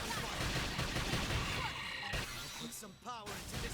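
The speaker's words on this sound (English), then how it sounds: "Just cripple them with gunfire." Rapid bursts of gunfire from combat in the video game Xenoblade Chronicles X pound densely and loudly for about two seconds, followed by sharper impacts and a rising electronic sweep.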